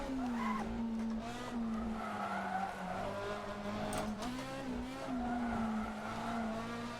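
A racing car engine in the video game Assetto Corsa drones steadily at high revs while tires squeal and skid throughout, loud and close, with no talking.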